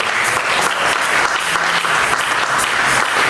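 A church congregation applauding loudly, dense continuous clapping from many hands filling the room throughout.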